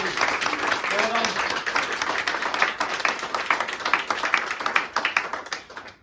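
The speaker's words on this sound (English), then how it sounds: "Yeah, come on, big round of applause." A studio audience at a charity prize draw breaks into a big round of dense, sustained clapping that stays loud for the whole stretch and fades slightly at the end.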